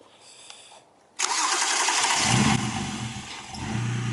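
A BMW E90 with a suspected misfire cranks and fires up at close range, the starter whir giving way to a loud, steady idle that carries an uneven low rumble.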